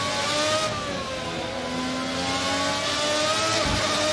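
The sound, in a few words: Formula RSS 1990 V12 race car engine downshifting in a racing simulator game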